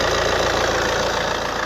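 A running Alfa Romeo GT Cloverleaf engine idles steadily and close, a dense mechanical hum with a fine, even pulsing rhythm and no talk over it.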